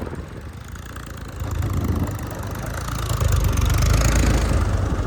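A tractor engine runs outdoors with a rough, low rumble that grows louder partway through and keeps swelling toward the end, as if drawing closer or working harder.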